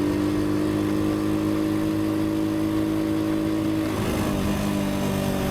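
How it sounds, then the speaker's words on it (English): A Honda Cub 90 motorcycle's small engine runs at a steady, even hum, droning continuously and fairly loud, with a slight shift in pitch near the end as it changes speed. "when you get the engine singing along, it's like a nice little flow like this"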